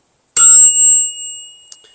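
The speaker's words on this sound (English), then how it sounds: "I got this nice bell. I forget what brand this is, but it's got a nice ring to it, nice tone, and it's loud enough" A loud, close single ring of a handlebar bicycle bell on a Lectric ONE e-bike, a sharp metallic strike with a bright tone decaying over about a second, followed by a faint second tap.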